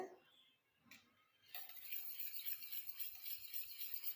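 Ingredients for a homemade foot cream stirred together in a bowl: quiet clinks at first, then a steady stretch of close, rattling scraping and tapping against the bowl.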